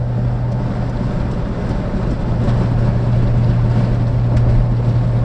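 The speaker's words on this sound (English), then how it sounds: "Those Rover V8s, when you get them screaming, sound absolutely astonishing." A Rover V8 engine in a Rover 800 running hard, giving a constant loud drone with a steady low hum and broad noise throughout, no voices.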